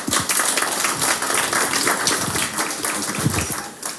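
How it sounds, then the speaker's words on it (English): Audience applause at a conference program, a dense, steady wash of many hands clapping in a hall, continuous and fairly loud throughout. "Another round of applause"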